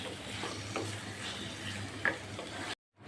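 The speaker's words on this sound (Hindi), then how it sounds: "अब यहाँ पे इसमें हाफ़ केजी हम चिकन ऐड कर देंगे और इसको हम इतना भूनेंगे प्याज और लहसुन अदरक के साथ" Half a kilo of chicken sautéing with onion, garlic and ginger, giving a soft, steady sizzle with faint stirring scrapes and a brief clink, then cutting to silence near the end.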